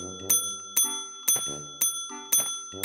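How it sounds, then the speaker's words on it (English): A bicycle bell rings in six or seven sharp, evenly spaced dings. Each one is bright and close and decays quickly, with soft, low murmurs between the rings. "What are you ringing the bell for?"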